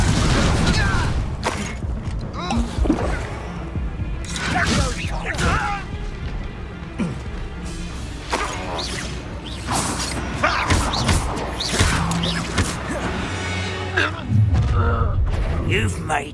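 Repeated Confringo blasting-spell explosions in the Hogwarts Legacy video game, heavy booms and crashes with whooshing casts scattered through a busy combat mix, while characters shout spells and taunts over the fighting.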